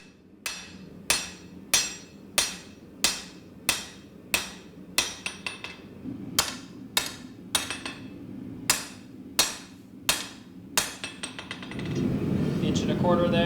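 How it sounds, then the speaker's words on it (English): Hammer blows forging a katana blade on an anvil, ringing metallic strikes in a steady rhythm of about one per second, loud and close, followed by a broad roar like a forge burner at the end. "I'm mostly forging it straight"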